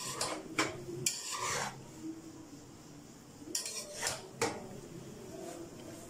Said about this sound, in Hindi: साइड से इस तरह हल्के हल्के हाथ से इस तरह मिक्स करती जाऊंगी